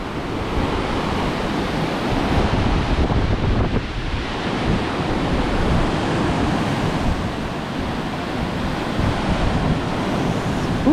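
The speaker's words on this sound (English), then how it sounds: "Oh, the water's getting way up." Ocean surf churns and crashes continuously during a typhoon at Tuburan, Cebu, with a dense roar of breaking waves mixed with heavy wind buffeting the microphone, loud and unbroken throughout.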